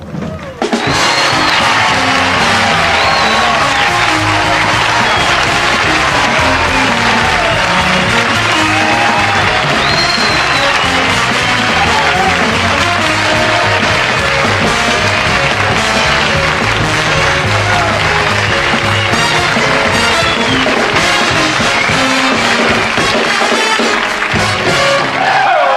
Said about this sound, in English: You should not overdo it because the people at home will think we use an applause sign.